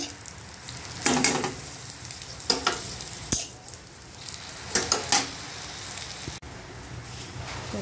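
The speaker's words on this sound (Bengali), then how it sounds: "পটলগুলো ভাজা হয়ে গেছে, এবার নামিয়ে নেব।" Pointed gourd slices frying in oil in a pan crackle and sizzle softly, with a few louder scraping stir strokes breaking through the steady hiss.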